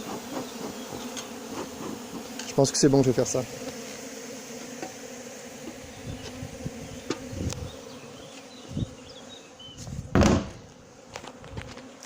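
A swarm of honeybees buzzes steadily around a hedge and cardboard box during a swarm collection, a constant drone under occasional rustling, knocks and someone speaking French.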